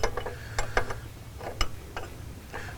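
Wrench ratcheting and clicking against fuel line fittings on a Cummins VP44 injection pump, a series of short metallic ticks and clanks at close range over a low steady hum, with no talk.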